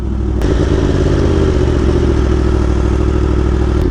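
A Yamaha R1M motorcycle engine rumbles loudly and continuously during a ride, with a deep steady drone and slight rev variation, close and unbroken, alone without talk.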